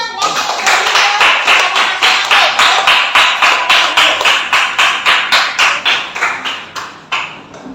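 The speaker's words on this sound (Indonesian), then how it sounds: "Ya, tepuk tangan untuk kita semua." A group of schoolchildren applauds together in a classroom, a steady run of rhythmic claps that stays loud and close before gradually thinning and fading out near the end.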